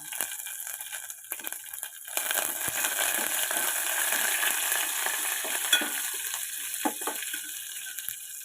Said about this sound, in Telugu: దీంట్లోనే కరివేపాకు కూడా వేసుకున్నామండి మనం తరిగి పచ్చిమిర్చి కూడా వేసాము